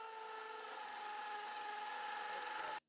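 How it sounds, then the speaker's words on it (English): A hammer drill bores pilot holes into a floor to anchor a stationary shelving rack, giving a steady, loud whirring grind for nearly three seconds before cutting off abruptly. "Next, use a hammer drill to drill pilot holes into the floor."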